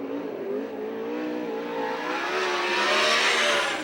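A USAC/CRA sprint car engine revs hard on a dirt track at Santa Maria, its pitch climbing and rising steadily over about four seconds. It sounds loud and close, and no one speaks.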